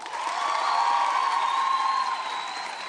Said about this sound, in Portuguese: Salva de palmas para o pequeno lápis da Luzia